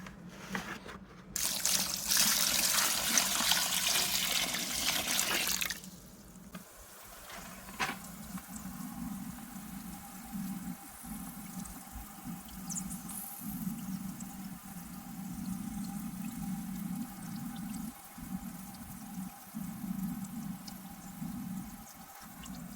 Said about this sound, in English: you'll actually be able to hear the clay fizzing as it absorbs the water into